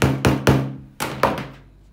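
A hammer strikes a nail through a corset eyelet hole, giving five sharp, close knocks in an uneven rhythm, each ringing briefly before fading. No one speaks.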